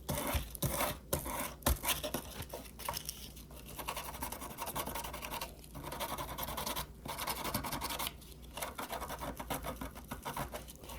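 Paint is scraped and rubbed back to distress a vintage tea table, making dry, close scratching strokes in uneven bursts with brief pauses between them.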